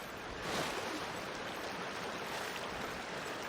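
A waterfall in the Genshin Impact video game pours with a steady, full rushing wash that stays even and unbroken, moderately loud, without speech.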